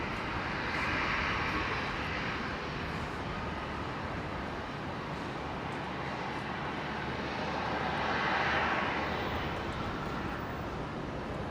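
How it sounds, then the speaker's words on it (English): A Qantas airliner arriving at Brisbane airport from Melbourne, its engine roar a steady broadband rumble that swells near the start and again toward the end, fairly distant with no talk. "there's the next arrival, Qantas 620 coming in from Melbourne here"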